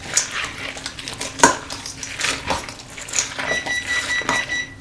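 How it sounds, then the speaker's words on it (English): Spoon stirring chicken pot pie vegetables in a baking dish, with scattered clinks and scrapes against the dish and a few sharper knocks over a quiet kitchen background. "Let me go ahead and give this a good stir again"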